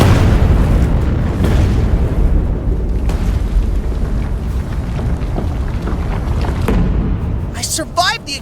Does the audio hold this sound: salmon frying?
no